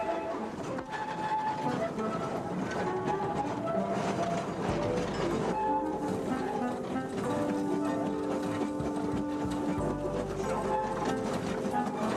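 A small 0-4-0 saddle tank steam locomotive built by Bagnall in 1919 chuffs along steadily around gardens, with rhythmic clanking and rail clatter close by, amid a busy outdoor background with some voices.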